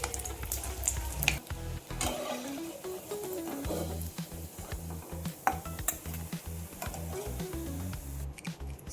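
Mutton kola urundai balls fry in hot oil for Chettinad-style kuzhambu, crackling and sizzling steadily while a utensil scrapes, stirs and clinks against the pan in irregular knocks.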